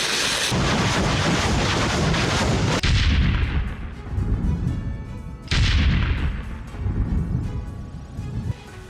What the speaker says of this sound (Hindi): ज़ेपोरिज़िया में रूस का बड़ा हमला, जहां रूस ने ताबड़तोड़ रॉकेट दागे